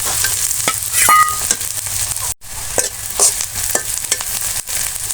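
Chopped onion, green chili and garlic sizzling in hot oil in a pan while being stirred, with steady frying hiss and occasional spatula scrapes and clinks.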